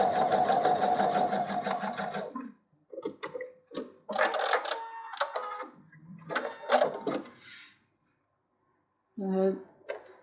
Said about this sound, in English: Line those up and stitch 1/4 inch in from the edge.